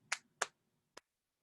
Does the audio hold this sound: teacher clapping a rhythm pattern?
yes